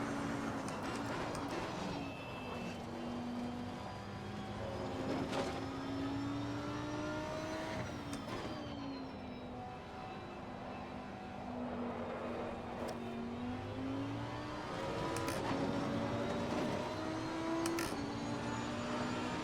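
A race car laps a circuit in Assetto Corsa Competizione, its engine climbing and dropping through repeated gear changes, revving hard and continuously, loud and close, with no talk over it.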